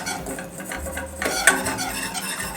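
A spoon scrapes and stirs tomato paste roasting in a pot, with soft rubbing scrapes and a brief metallic clink of utensil against the pot, close and alone without talk.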